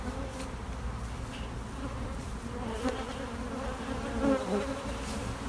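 Bees being rehomed produce a dense, continuous buzzing swarm close by, steady and moderately loud with no voices.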